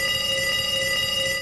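A tram runs along its rails in Osijek, giving a steady metallic rolling drone with a sustained high whine and squeal over low rumbling, loud and close, with no talk.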